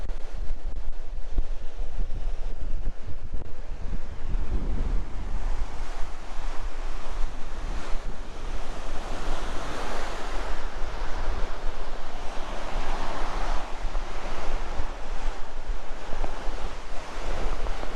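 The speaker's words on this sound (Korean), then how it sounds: "야 파도 좀봐" Ocean waves crash and surge continuously onto Deoksan Beach on Korea's east coast, a loud roaring wash mixed with gusty wind buffeting the microphone.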